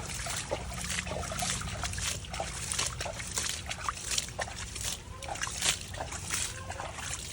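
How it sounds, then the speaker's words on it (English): Water is poured into a backyard pond, making a continuous splashing and trickling that runs throughout at a steady level, with faint outdoor background noise. "Pour some water up."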